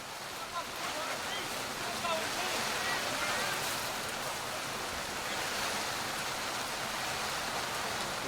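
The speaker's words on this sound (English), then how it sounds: "got to stop the rain from coming in on this side" Steady rain falls outdoors at a Premiership rugby match between Joondalup Giants and Rockingham Sharks, a continuous dense hiss at even loudness from start to finish.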